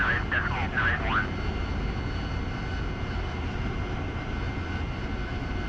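A jet aircraft in the flight simulator DCS World spooling up for takeoff, a steady broad roar of engine noise filling the whole span with a low rumble beneath, while a voice speaks briefly at the start.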